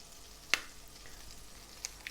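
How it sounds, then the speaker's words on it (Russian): Soft, steady sizzling of butter in a frying pan over low heat, with a few sharp little pops and crackles standing out, quiet and close. "яичницу мы будем жарить на сливочном масле, на таком медленном огне"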